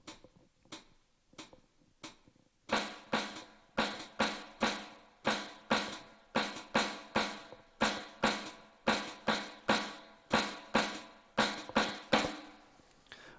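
A drummer plays doubles accenting a five-note clave pattern: a few sparse sharp taps, then a steady run of quick, evenly spaced strokes with regularly recurring louder accents, close and alone without speech.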